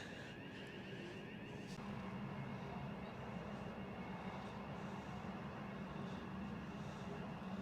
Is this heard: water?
no